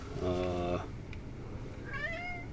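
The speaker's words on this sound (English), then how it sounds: "And I apologize about my cat just meowing." A pet cat lets out a clear, drawn-out meow nearby, then a shorter rising meow a moment later, with quiet room noise from a game session between.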